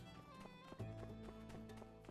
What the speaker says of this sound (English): There's a guy on a horse.